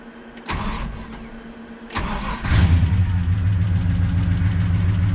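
A Nissan GU Patrol with an LS1 V8 engine cranks twice with a whirring starter, then catches and settles into a steady, rumbling idle close by.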